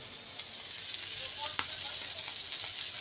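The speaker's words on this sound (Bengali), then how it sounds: "মাছ ভাজা" Fish sizzles in a frying pan, a continuous bright crackling hiss heard close up and alone, with one brief sharp click partway through.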